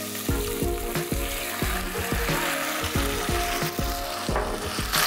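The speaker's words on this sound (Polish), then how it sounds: "to się podsmaża" Kale and onion fry steadily in a hot pan, a continuous crackling sizzle with regular scraping strokes of a spoon stirring the vegetables, heard close with no talk.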